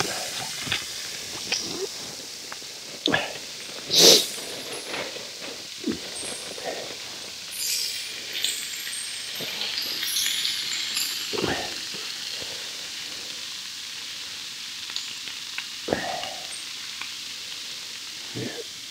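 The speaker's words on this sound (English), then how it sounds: "Oh, I love that sizzle on that." Rashers of bacon frying with duck in a pan at a winter overnight camp, a soft steady sizzle and hiss running throughout, with occasional sharp pops and crackles standing out nearby.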